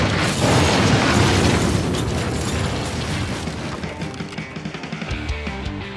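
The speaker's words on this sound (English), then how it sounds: "the side of the fucking chapel exploded" An explosion blows out the side of a chapel, a loud, deep, rumbling roar with crackling debris that fills the whole stretch and slowly tails off, with no voices.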